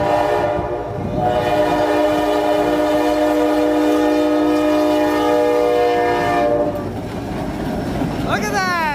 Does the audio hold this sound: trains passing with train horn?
yes